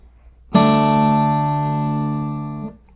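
Acoustic guitar in an alternate tuning, the pick striking the sixth string while two fingers pluck two higher strings together, a single close chord that rings evenly for about two seconds before being damped.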